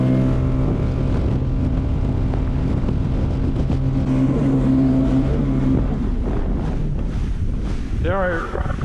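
Sea-Doo Spark Trixx jet ski engine surging under full throttle, a loud steady roar with strong wind buffeting the microphone across the whole run, easing slightly near the end.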